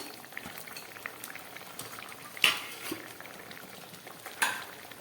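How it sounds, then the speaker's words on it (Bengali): Fish pieces dropped into a simmering curry broth with green chillies and ol kopi, steady bubbling and faint sizzle with two sharper clatters of pot and utensil, close with no talk. "ঝোলটা ফুটে উঠেছে এবার মাছগুলো আমি দিয়ে দিচ্ছি"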